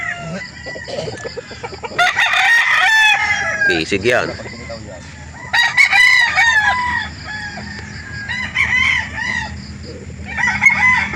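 Roosters crow repeatedly at a chicken market, several loud, drawn-out calls overlapping with clucking fowl, while people talk nearby between the crows.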